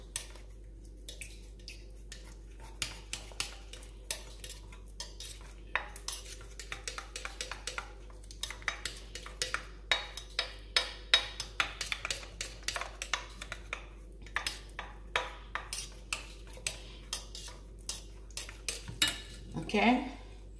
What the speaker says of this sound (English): I will stir it until it's fully dissolved.